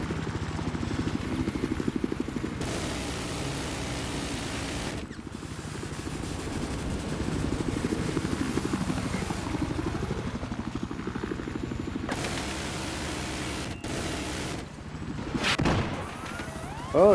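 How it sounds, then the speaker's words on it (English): A helicopter makes a chopper run over a roof in a multiplayer video game battle, its steady rotor thump running throughout, with bursts of louder noise, gunfire-like bangs and a swooping engine tone layered over it. "Oh, Wreck-It Ralph with another chopper run on the roof."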